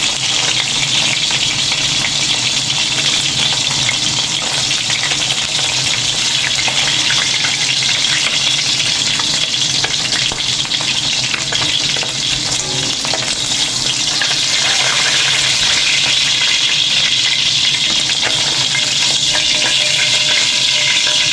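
Fish frying in hot oil for escabeche, a steady loud sizzle and crackle that fills the whole stretch with no talk over it.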